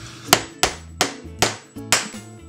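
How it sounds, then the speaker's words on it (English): Five sharp hammer blows crack a cooked stone crab claw at a steady pace, each a crisp crack with a short ringing tail, close and loud. "Good thing I got a hammer."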